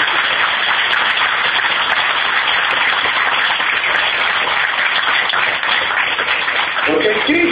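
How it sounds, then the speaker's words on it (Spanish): A church congregation claps loudly and continuously during a sermon, dense steady applause that fills the whole span, with a few voices rising near the end. "denle un aplauso al Rey para que salga huyendo ese demonio"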